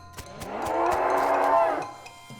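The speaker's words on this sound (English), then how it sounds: "You're gonna have to deal with this cow if you want to explore this area." Cow in the West of Loathing game, a single long, loud low moo lasting about two seconds, heard with light clicks and no talk.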